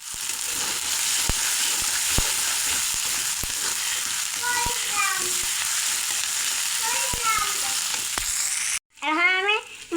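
Garlic, cumin and spices fry in a hot pan with a steady loud sizzle throughout, broken by a few sharp spoon clicks against the pan, while a high voice briefly chirps in the background.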